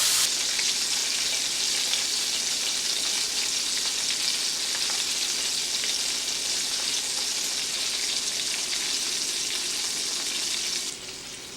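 Squirrel meat fries in a pan over low heat, a loud, dense, even sizzle heard up close that holds steady for several seconds before dropping off sharply near the end.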